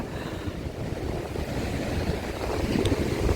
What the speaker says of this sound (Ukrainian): Все в піні, плювалася тою піною, море.